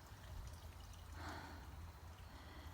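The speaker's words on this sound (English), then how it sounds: "And there's a pipe of water coming through down into the stream there as well." Water pours from a pipe into an outdoor stream near Glencoe, making a faint, continuous rushing splash heard at a distance.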